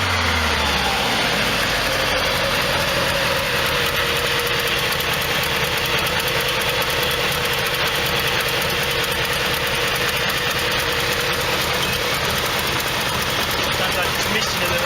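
Close and loud, a Nissan Pulsar CA18DE engine idles roughly and misfires, a continuous uneven rumble with a leaking exhaust manifold adding a ragged, puffing edge, sustained without a break.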